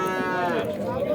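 At a livestock market, cattle and calves call out in a loud, close, drawn-out moo-like cry. Market noise and nearby voices sit beneath it.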